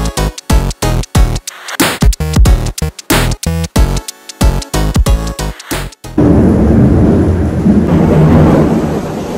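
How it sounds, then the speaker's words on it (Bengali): Heavy rain pours down near a rooftop walkway. Loud, choppy bursts of sound give way to a steady, dense roar of falling rain over the last few seconds. "বিশাল বৃষ্টি পড়ছে"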